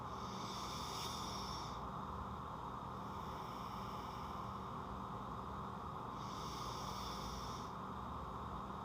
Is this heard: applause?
no